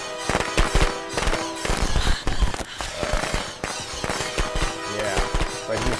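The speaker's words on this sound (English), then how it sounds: "I set off some firecrackers inside Jason Bull's shack." Firecrackers set off inside a wooden shack in a horror video game, a rapid, irregular string of sharp cracking pops and bangs that continues for several seconds, loud and close.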